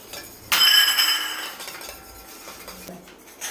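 A spoon clatters and clinks against a bowl as beaten eggs for egg dosa batter are mixed, opening with a loud burst of rapid scraping and clinking that gradually fades into softer stirring, then a brief knock near the end.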